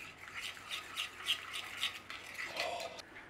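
A spoon scrapes and swirls through a pan of sugar and Irish whiskey glaze, a soft rhythmic rubbing of about six strokes, faint and close.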